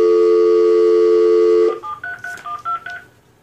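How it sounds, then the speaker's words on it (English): A telephone dial tone holds steady, then a quick run of about six DTMF keypad beeps follows as a number is dialed, close and clear, before fading to quiet. "I should call him again"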